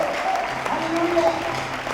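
Church congregation clapping for the Lord at a district congress worship service, a steady dense patter of many hands with voices and sustained tones mixed in throughout.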